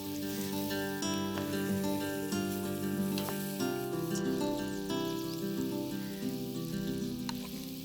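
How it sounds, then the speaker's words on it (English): Chopped onions fry in desi ghee in a pan, giving a steady sizzle under bright background music that carries on throughout. "In a fresh pan, some desi ghee. And along with this, chopped onions."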